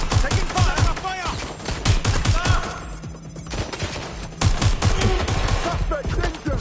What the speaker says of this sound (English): Suspects shooting! Taking fire! Fire!